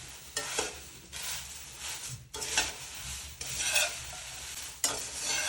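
Two spoons stir red poha chivda in a pan, making repeated scraping, rustling strokes in bursts about a second apart, with a light sizzle underneath, close and moderately loud, no talking.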